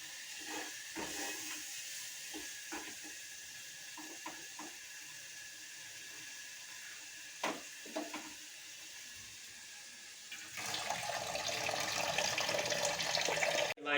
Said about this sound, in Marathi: आता हे थोडंसं थंड पाणी घेतलं आणि आता वॉश करत आहे त्याला